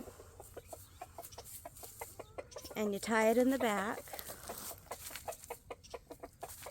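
Backyard chickens cluck nearby in a quick, uneven stream, with one louder drawn-out squawk partway through, while a person talks over them.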